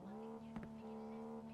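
A car engine hums steadily in the driving game Drive Beyond Horizons, a smooth tonal drone holding the same pitch with a brief scrape or bump in the middle, quiet and alone without talk.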